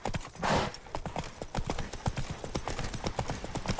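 Horse hooves clip-clopping at a quick, steady galloping rhythm in the video game Witcher 3, close and clear, with a brief whoosh near the start and no talking.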